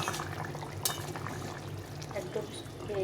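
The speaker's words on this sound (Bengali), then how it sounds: "ঝোলটা ফুটে যাচ্ছে, ঝোলটা হয়ে এসছে।" Fish curry gravy with potatoes and green chilies simmers in a pot, giving faint, low bubbling and gentle liquid burbles under a quiet background murmur.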